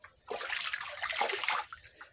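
Water splashing and sloshing inside a motor-fed water tank on a village farm, a steady, fairly close rush of liquid lasting about two seconds with no talk.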